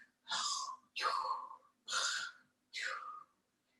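Four long, breathy snore-like sounds in a steady rhythm, made by children imitating snoring, with short pauses between each.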